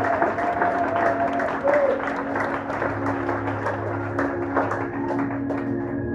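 A church congregation applauds steadily through a French-language service, a dense sustained clapping under a low musical drone and some voices, moderately loud throughout.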